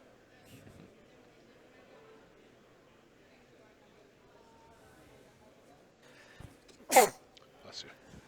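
A single sharp sneeze bursts out close by during a quiet card game broadcast, followed by a few soft murmurs and faint voices.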